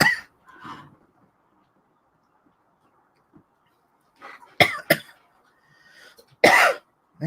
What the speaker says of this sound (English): Man, that is a dry cough.